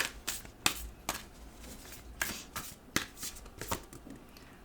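Angels and Ancestors Oracle cards being shuffled by hand, a run of quick papery riffles and flicks close up, uneven bursts separated by short pauses.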